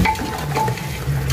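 Colorau (annatto) fries in a pot while being stirred, with close, continuous scraping and a gentle sizzle and no talking.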